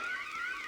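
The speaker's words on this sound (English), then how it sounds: "You made me trip the secret alarm" A secret alarm being tripped gives off a steady, warbling electronic tone that holds for under a second at moderate level, with no voices.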